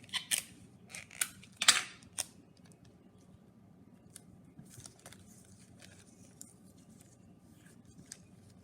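Scissors snip through paper strips in a series of crisp, close cuts early on, followed by fainter rustling and occasional light clicks.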